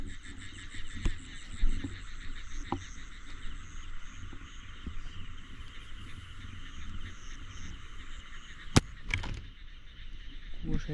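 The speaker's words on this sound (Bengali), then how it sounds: "এদিক দিয়ে মনে হয় যে ব্যাঙ।" Frogs croak close by on a misty village night in Bangladesh, a steady throbbing chorus running throughout, broken by occasional sharp clicks and brief handling noises.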